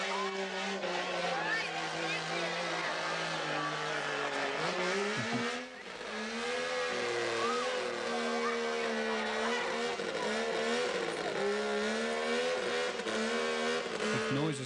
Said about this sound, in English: listen to the noise of that engine. It's just incredible.